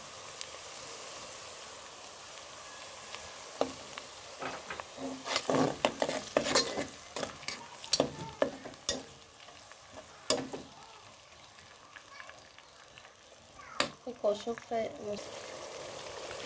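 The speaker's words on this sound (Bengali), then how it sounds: "আমি এখন পেঁয়াজ রসুন বাটাটা দিয়ে দিব, পেঁয়াজ রসুন আদা বাটা" Onion, garlic and ginger paste frying in hot oil for biryani, a soft, steady sizzle with sharp clinks and scrapes of a spoon stirring in the pot, while a voice talks over it.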